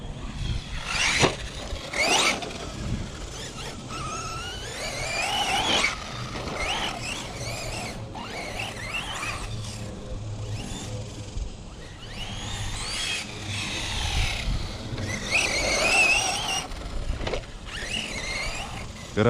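An ET48.3 RC monster truck conversion drives around with a high electric motor whine that rises and falls, mixed with bumps and gravel noise. Voices talk intermittently over it.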